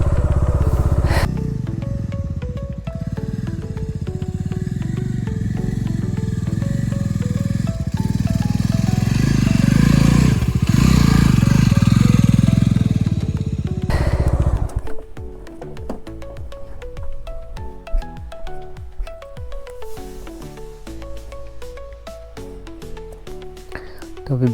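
A motorbike engine runs loudly and steadily while riding on a road in India, growing louder midway, then dropping to a quieter idle with clattering and tonal beeps.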